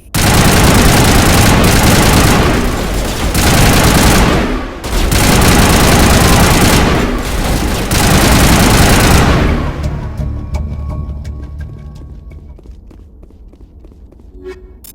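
Heavy gunfire in a Mass Effect: Legendary Edition firefight, loud dense bursts of automatic weapons fire for several seconds with brief gaps, then cutting off to quieter scattered clinks and settling sounds.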